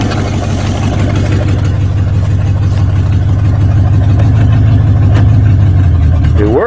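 An old, rusty Oldsmobile 88 that sat for three years runs on gas more than three years old, making a loud, close, steady engine drone that rises in tone at the very end.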